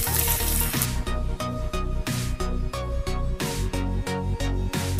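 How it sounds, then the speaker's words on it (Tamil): Potatoes fry in hot oil for Mumbai aloo gobi, giving a loud, dense, continuous sizzle with crackling pops throughout, alone and close up. "நெக்ஸ்ட்டு உருளைக்கிழங்கு இது மாதிரி போட்டு வறுத்துக்கலாம்."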